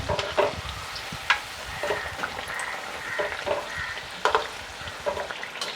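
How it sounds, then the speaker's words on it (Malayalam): Kerala evening snacks deep-frying in hot oil, a steady close crackling sizzle with sharper spitting pops every second or so, no voices over it. "എണ്ണ ചൂടായിട്ടാ നമുക്കിത് ഓരോന്നിട്ടിട്ട് പൊരിച്ചെടുക്കാം"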